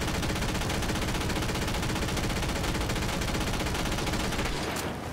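A Gatling gun in Borderlands 3 fires one unbroken, dense, rapid stream of shots for about five seconds, then cuts off with a short ringing tail.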